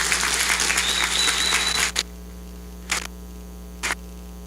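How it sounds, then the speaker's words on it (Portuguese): A church congregation claps for about two seconds, a dense, steady wash of applause that stops abruptly, followed by a few isolated claps over a constant electrical hum. "Eu gostaria que você aplaudisse mais forte o Senhor Jesus"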